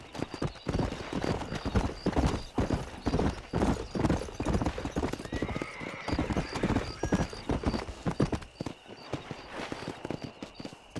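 Horse hoofbeats clip-clop at a rapid galloping rhythm throughout, loud and close, with an occasional whinny, from a horse ridden on a ranch in the Red Dead Redemption 2 video game.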